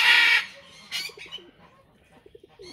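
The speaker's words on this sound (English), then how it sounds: "Our powder pigeons that we got from Mary Charles, they have babies, two of them" Baby pouter pigeons make soft, low cooing and chirping calls in short repeated bursts, close by, after a brief rustling noise at the start.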